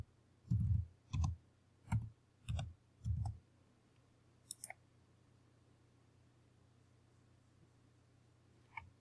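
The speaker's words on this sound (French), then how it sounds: "je tape mon mot de passe" Keystrokes on a computer keyboard as a password is entered to run a Windows 10 installer as administrator: five heavy, evenly spaced clicks close up, then a few faint ticks and quiet room tone.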